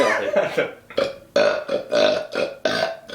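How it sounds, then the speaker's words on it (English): A string of burps, about six short belches in an uneven rhythm, loud and close, with nothing else around them. "I can burp inward and outward."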